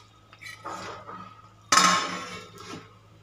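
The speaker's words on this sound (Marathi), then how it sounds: "झाकण ठेवायचं, 15 मिनटं शिजून घ्यायचं." A metal lid clatters down onto a pot of boiling Andhra-style vegetable pulao in one sharp, close clink, followed by a fading rattle, with soft kitchen clinks and a low hum before it.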